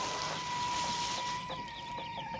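Rhode Island chickens cluck and chatter at a farm in Pangasinan, a cluster of short, overlapping bird calls against a busy background with a steady tone running underneath.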